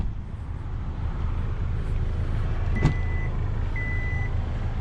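The power liftgate of a 2022 Hyundai Santa Fe 2.5 Turbo Limited AWD opens, with a short sharp click followed by two steady electronic beeps over a low ambient hum.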